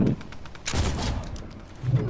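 Gunfire in the survival game Rust: a few sharp shots cracking in quick succession, fairly loud and close, with muffled low thuds around them and no clear speech.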